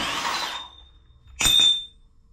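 A Milwaukee 3/8 inch cordless impact ratchet briefly rattles as it loosens a body mount bolt, one short close burst lasting under half a second, preceded by a fading rustle.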